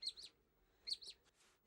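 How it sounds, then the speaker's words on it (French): A squeaky toy gives two quick double squeaks, high and thin, close by and fairly quiet, with a faint third squeak trailing after. "il y a un pouic-pouic dedans"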